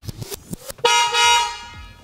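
A few light clicks, then a Tesla Model Y horn gives one sustained honk lasting about a second, loud and nearby.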